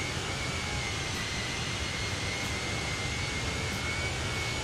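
A Fenix A320 airliner takes off in Microsoft Flight Simulator, with a steady, loud jet engine roar and a thin high whine held evenly throughout and no voices.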